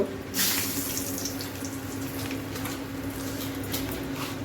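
Bay leaves and two dried red chillies sizzle in hot oil for an aloo dal, a loud, steady frying hiss that bursts up at the start and then holds evenly close by.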